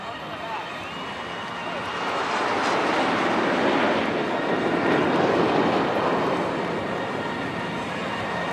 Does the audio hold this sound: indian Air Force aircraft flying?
yes